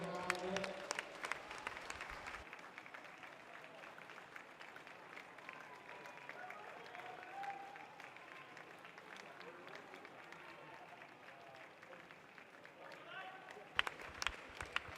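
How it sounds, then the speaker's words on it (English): Crowd cheering and clapping at a county qualifier swimming meet as a girl finishes her race, a steady broad roar of noise with scattered claps, moderately loud and continuous, with a voice heard over it. "We'll give her a cheer as she comes down here."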